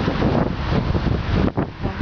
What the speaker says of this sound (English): record some of this area while the wind is blowing really bad right now